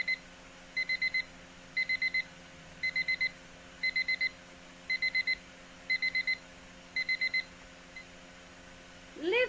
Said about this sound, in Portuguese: Despertador tocando.